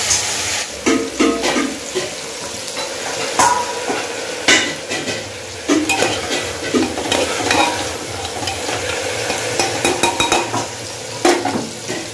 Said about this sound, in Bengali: মাছ নিয়ে এসছে, মাছটা ভেজে ফেলে চলুন কড়াইটা গরম হোক